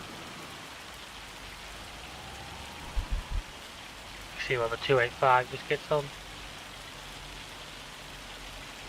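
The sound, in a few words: hail falling in the video game Farming Simulator 25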